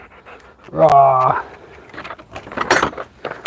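A dog pants in quick breathy bursts near a backyard deck under construction, with a person talking and keys jangling nearby.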